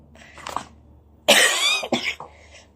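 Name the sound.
cough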